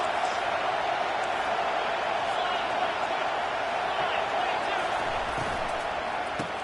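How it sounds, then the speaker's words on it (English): At a Wisconsin vs Notre Dame college football game, a loud, dense stadium crowd roars steadily throughout, with an announcer's voice blended into the din. "This crowd trying to make life miserable for this offense."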